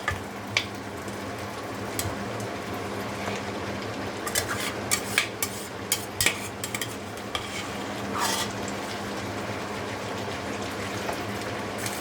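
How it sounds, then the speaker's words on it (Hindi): Mutton stir-fried bhuna-style in a karahi, a low steady sizzle beneath repeated metallic scrapes and clinks of a spoon against the pan, coming in irregular bursts, with no talking. "इसको हम सिर्फ अभी भूनेंगे गोश्त को बस"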